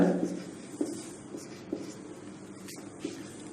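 Chalk or a marker scratches across a classroom board in short strokes with faint soft taps, quiet and close, while a physics lesson on convex mirrors goes on.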